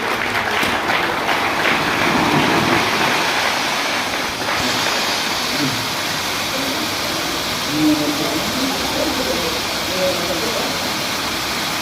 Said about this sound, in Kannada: ಚಪ್ಪಾಳೆ ಹೊಡೆದು ಗಟ್ಟಿಯಾಗಿ.